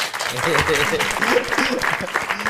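An audience applauds with a dense, steady patter of clapping that carries on throughout, while a voice talks over it.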